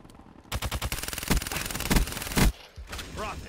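Automatic gunfire in Call of Duty Black Ops 3, a rapid close burst of shots that pauses briefly, then resumes before a final loud shot, followed by faint game effects, with no talking.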